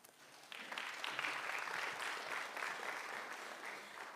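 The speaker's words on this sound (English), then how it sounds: "A round of applause, please." An audience at a national schools moot court final breaks into applause, a dense, steady patter of clapping that starts sharply and carries on evenly, fairly distant and soft.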